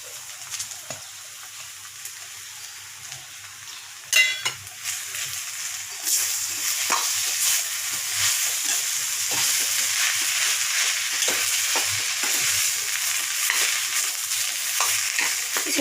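Samosa filling frying and sizzling in a pan as fresh coriander is stirred in, a steady hiss that swells after a sharp clatter, with occasional scraping from stirring.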